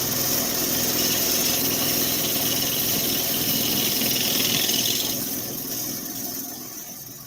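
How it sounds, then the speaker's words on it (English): A spindle gouge cuts wood on a woodturning lathe, giving a steady loud whirring hum with a hissing edge that holds evenly, then eases and fades toward the end, with no voices. "Spindle gouge."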